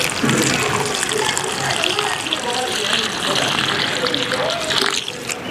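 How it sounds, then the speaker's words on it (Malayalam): Water pours steadily into a container to soak decor-making material, a continuous close splashing gush that runs the whole stretch at even loudness. "അതിനായിട്ട് വെള്ളം ഒഴിക്കുവാണ്"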